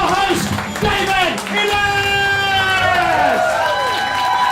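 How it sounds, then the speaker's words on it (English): A studio audience applauds and cheers loudly and steadily for the host at the Red Dwarf 30th birthday show, with some voices calling out within the crowd noise. "Keep your applause going for your host, David"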